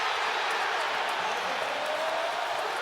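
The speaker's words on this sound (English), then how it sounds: "the crowd very involved early" Basketball arena crowd during an NBA playoff game between the Boston Celtics and Philadelphia 76ers, a steady loud wash of cheering and roar filling the space without a break.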